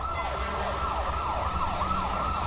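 An ambulance siren wails close and loud, its pitch sweeping up and down in a quick repeating cycle over a low rumble.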